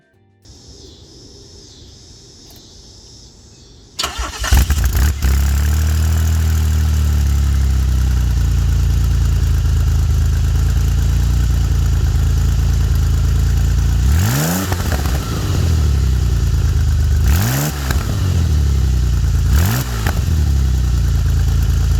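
Twin turbo car engine on an Island Twin cranks and fires after a quiet stretch, then settles into a loud, steady idle broken by three sharp revs.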